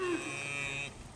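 A newborn calf moos once on a ranch, a fairly faint, drawn-out bleating call with a quieter trailing note and nobody talking.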